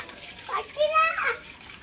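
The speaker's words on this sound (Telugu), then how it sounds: "నీళ్ళలో పోసి ఆడుకుంటున్నావా?" A child plays with water, splashing and pouring in short bursts, with a small voice chiming in faintly among the sloshing.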